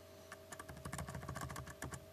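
Rapid keystrokes on a computer keyboard as a font name is typed, a steady run of close, crisp clicks lasting about two seconds with a constant low hum underneath and no talking.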